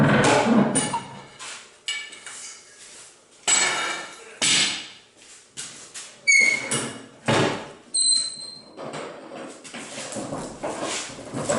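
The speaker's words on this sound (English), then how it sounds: "Now I can take the clamps off." Clamps being removed from glued wood panels in a cold garage, with a series of sharp knocks, metallic clanks and brief scraping sounds spread in irregular bursts, close and fairly loud, no talking.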